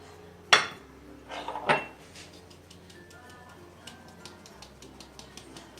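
A spoon mixes lemon-cola cake batter in a bowl, giving two sharp clinks against the bowl early on, followed by a run of faint, steady ticking taps.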